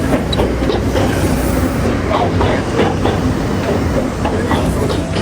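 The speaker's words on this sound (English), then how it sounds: "Oh my god, the train." A train rumbles past loudly and continuously through a village street in Shifen, Taiwan, with rhythmic clacking of wheels on the rails close by.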